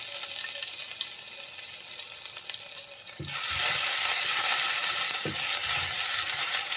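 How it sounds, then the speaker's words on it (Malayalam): Continuous sizzle of ginger sautéing in a hot pan, growing louder midway, with a few soft scrapes of stirring. "അതിൻ്റെ ആ ഒരു പച്ചമണം മാറുന്നത് വരെ നമുക്കൊന്ന് വഴറ്റിയെടുക്കാം."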